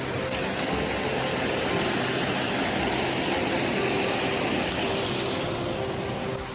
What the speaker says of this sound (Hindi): आगे का सफ़र और भी खतरनाक होता जा रहा है धीरे धीरे, क्योंकि इस तरह के झरने